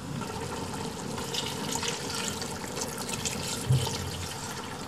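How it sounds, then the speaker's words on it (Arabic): Water running or pouring steadily into a bowl of barley and wheat flour with a little oil and salt while making Libyan bazeen dough, a continuous close splashing wash with no talk. "نحط الدقيق في الماء والزيت والملح قليل شوية الملح"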